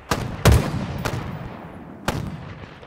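Gunshots ring out in a tactical shooter match, a few sharp loud reports spaced irregularly with reverberant tails, as if aimed at vehicle tires.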